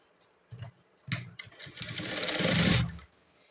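Sewing machine stitching a blouse seam, a few short stuttering starts building into a steady whirring run of about two seconds, close and clear with no talking.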